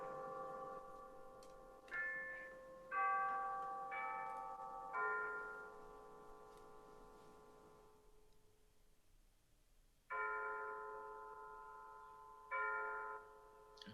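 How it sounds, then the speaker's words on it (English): A clock strikes eleven in slow, resonant chimes, each ringing tone lingering and fading, with a quiet pause midway before the strikes resume. "As we hear the chimes of the clock striking 11"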